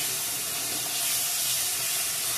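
Pre-fried potatoes and soybean chunks go into hot spiced oil in a pan for an egg curry, giving a steady, close, fairly loud sizzling hiss that carries on without pause and with no talking.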